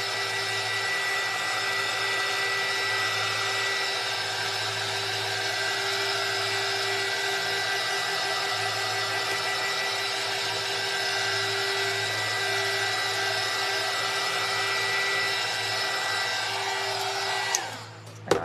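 Steady, loud electric dryer blowing continuously to dry a decoupaged silver plate with a country chicken design, a constant whirring airflow that cuts off abruptly near the end.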